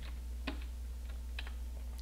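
Password being typed on a computer keyboard while configuring a Slackware Linux mail setup, a few sparse, soft key clicks over a steady low electrical hum, quiet and close.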